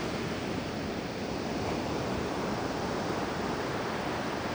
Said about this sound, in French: Et là, c'est vrai qu'il y a de la vague.